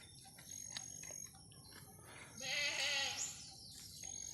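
Newborn goat kid bleating, a single wavering cry near the microphone that rises clearly above quiet background rustling and faint chirps.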